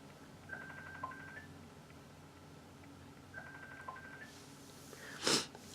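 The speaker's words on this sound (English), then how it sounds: "Sorry for that beeping noise." A Kindle chimes with a Facebook Messenger video call, two short repeated runs of faint electronic beeps spaced a few seconds apart, followed by a brief soft rustle nearby, with no talking.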